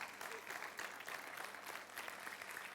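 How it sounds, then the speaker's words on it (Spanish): Church congregation applause during a Spanish-language sermon, a brief burst of steady clapping heard from within the room, fairly faint overall. "Den un aplauso al Señor."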